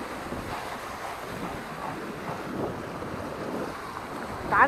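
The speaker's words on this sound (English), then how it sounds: "And this is the sea." Sea waves wash in a steady, close rush by the sea at Manado, mixed with wind buffeting the microphone and no voices.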